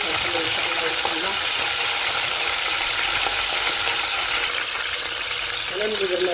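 Meat frying in oil in a pan for Moroccan Eid couscous, a steady close crackling sizzle running throughout while someone speaks over it.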